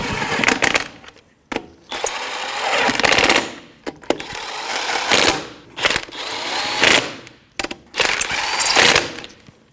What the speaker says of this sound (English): That's a 19mm socket. We're just going to snug it up before we torque it and do it in a star pattern.